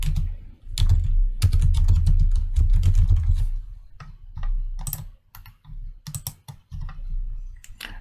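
A surgery name is typed into an Excel spreadsheet on a computer keyboard: close, crisp key clicks in quick irregular bursts with brief pauses, set over a low room rumble.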